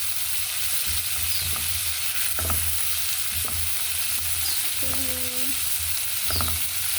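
Tomato frying in a pan for sardines with noodles, a continuous bright sizzle with several stirring scrapes and knocks of the utensil, close up with no voices.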